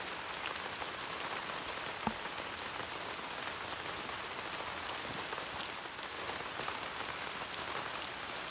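Steady rain drums on the roof of a camper van on a cold camping trip, a dense, even patter that runs through the whole stretch with an occasional louder drop, and no voices.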